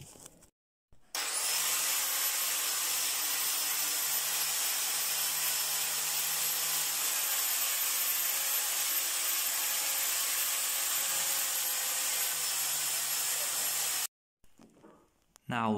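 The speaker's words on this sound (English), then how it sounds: "We got here wire cup brush. It's a special brush for cleaning rust and old paint." An electric grinder fitted with a wire cup brush scrubs rust and old paint off an old anvil, a loud continuous high whine with scraping that starts abruptly after a second and cuts off near the end.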